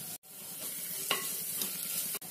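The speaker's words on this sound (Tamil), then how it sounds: "வெங்காயம் நல்லா வதங்கட்டும்." Onions sauté in a clay pot, giving a steady, soft sizzle with a few faint stirring scrapes, close but quiet, with no one speaking.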